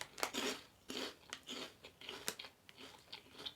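Crunchy star-shaped Icelandic savory snack bitten and chewed up close, a run of crisp irregular crunches with no talking.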